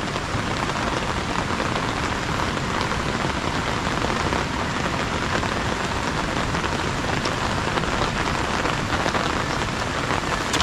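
Heavy rain pours steadily on a farm where water buffalo are fed, a loud, even hiss of drops on surfaces with no breaks and no talking.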